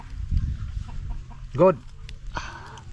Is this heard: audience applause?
no